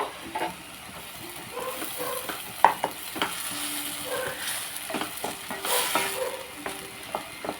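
Ginger paste frying in a pan, a soft continuous sizzle with scattered light clicks and scraping as it is stirred, moderately close and without speech.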